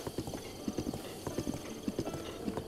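Horse hooves clip-clop in a steady rhythm in the video game Breath of the Wild, with soft game ambience underneath and a faint whinny blending in.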